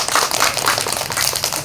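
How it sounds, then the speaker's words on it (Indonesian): A group of children at a fire brigade safety lesson for kids in Aceh claps hands together, giving a dense, steady patter of many overlapping claps that fills the whole moment without talk. "yuk tepuk tangan untuk kawan yang dua ke depan"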